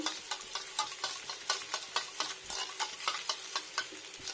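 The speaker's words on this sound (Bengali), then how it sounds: "ফ্রেশ টক দই তো এটা আমি ফেটে নিই একটু" Fresh sour yogurt is beaten in a bowl for a vegetarian green banana kofta, giving a steady run of quick, rhythmic scraping clicks close by, with no talking.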